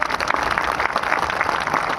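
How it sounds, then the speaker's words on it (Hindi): Audience applause at a ceremony honouring martyrs and their parents, a loud, continuous wash of many hands clapping at once that holds steady throughout. "एक बार इनके लिए जोरदार ताली है।"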